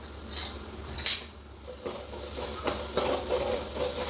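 Onion masala with garlic paste, red chili powder and turmeric sautéing in a pan for an egg curry, soft sizzle beneath clinks of a metal spoon and a few scraping stirs, close and unaccompanied by speech.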